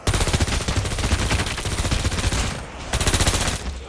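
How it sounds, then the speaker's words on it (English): Machine pistol fire in Call of Duty Mobile zombies mode rattles in dense, rapid automatic bursts, loud and continuous, with one short break before the shooting resumes. "Machine pistol."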